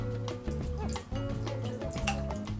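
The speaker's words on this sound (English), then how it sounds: "you're gonna do a splash of sweet and sour, so about a half an ounce if you're measuring" Sweet and sour mix splashes into a cocktail shaker for a green tea shot, a short dripping, trickling pour heard over background music.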